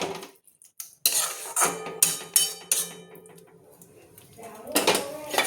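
Spices and crushed kasuri methi stirred together in a metal pan, sharp clinking scrapes of a spoon in irregular strokes with short pauses, close and clear.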